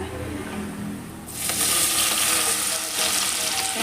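Garlic and coriander drop into very hot oil. A quieter background hiss suddenly bursts into a loud, dense crackling sizzle that keeps going strongly to the end.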